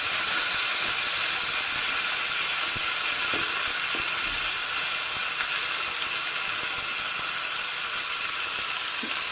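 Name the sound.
marinated tandoori chicken pieces sizzling in iron pan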